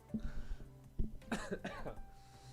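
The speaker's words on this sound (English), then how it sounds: "You guys got me coughing." A few short, dry coughs close to the mic, in quick succession after a faint first cough, with quiet background hum.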